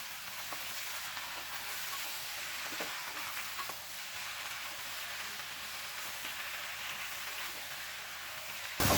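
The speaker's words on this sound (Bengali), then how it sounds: "এবার পুঁই শাকের পাতাটা দিয়ে দেব। এবার গ্যাসটাকে হাই ফ্লেমে রেখে 1 মিনিট সময় ধরে নাড়াচাড়া করব।" Vegetables and malabar spinach leaves crackle steadily as they are stir-fried in a pan over a high gas flame, with continuous sizzle and occasional scraping of a spatula.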